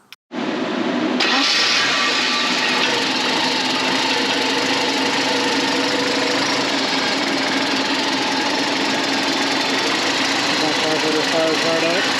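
A 1986 Porsche 944 Turbo with a turbocharged 2.5 liter engine cranks and catches after a brief pause, then settles into a steady, loud, close idle that runs on unbroken, with faint speech beneath it.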